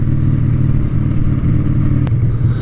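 A Harley-Davidson Sportster motorcycle engine rumbles loudly and steadily while riding, a low throbbing idle-to-cruise note with a brief click partway through.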